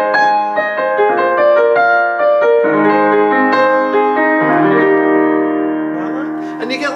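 A Kawai CN301 digital piano on its upright piano voice plays chords and melody continuously with a warm, resonant tone and sustained harmonics, moderately loud and close, with no voices.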